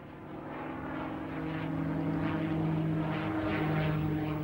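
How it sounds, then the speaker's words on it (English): A P-51 Mustang fighter plane's piston engine and propeller drone steadily, with a strong, low, harmonic hum that swells slightly louder and holds. "It was Britain's quest for a new fighter plane to shore up its fleet against Hitler's advances, which brought about the P-51 Mustang"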